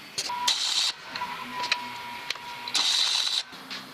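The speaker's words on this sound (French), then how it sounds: "je viens de faire les points de soudure" Tack welding a scooter kickstand on a Terrot VMS2 scooter: two loud bursts of crackling, buzzing welder arc, each under a second long, separated by quieter workshop noise and faint short ticks.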